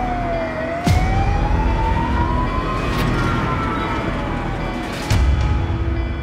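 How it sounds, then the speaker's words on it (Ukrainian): Wailing emergency siren of an ambulance coming up from behind a minibus on a road in Dnipro, Ukraine, its pitch sweeping steadily up and down, loud and close over a constant engine and road rumble. "позаду швидка, давай вправо"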